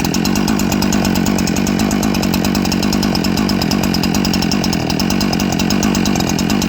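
A Husqvarna 372XP chainsaw engine runs steadily and loudly throughout, a dense continuous buzzing drone with no pauses and no voices.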